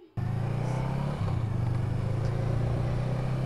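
A 2018 Honda Rebel 500 ABS motorcycle engine starts up and settles into a steady, close, loud idle with a low throbbing note and a slight shift after about a second, with no voices.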